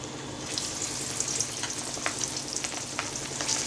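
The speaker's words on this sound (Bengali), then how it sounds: "এই যে আপনাদেরকে একটু আগে পেঁয়াজ আর রসুন কাঁচামরিচ এগুলো দিয়েছিলাম, এটা ভাজা হচ্ছে।" Onion, garlic and green chilli fry in a pan with a close, crackling sizzle, small spits and pops scattered over a steady hiss, and no voices.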